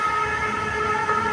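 A police siren in a mobile video game sounds as a loud, steady electronic wail, close and continuous through the whole short stretch.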